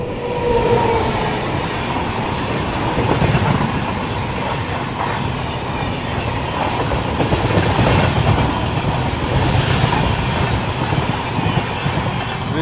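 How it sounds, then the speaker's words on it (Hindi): The 12615 Grand Trunk Express from Chennai to New Delhi runs near Gudur Junction. From on board, its wheels give a continuous rumble and rhythmic clatter on the tracks, steady and fairly loud throughout. "ऐसे कुछ रफ्तार में फ़िलहाल अपनी ट्रेन चल रही है"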